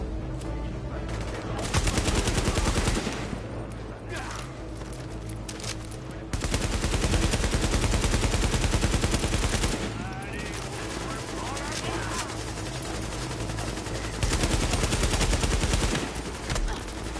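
Heavy machine gun gunfire in The Division video game rattles loud and sustained across the whole stretch, swelling in several long bursts with brief easing between them, with game noise and some talk beneath.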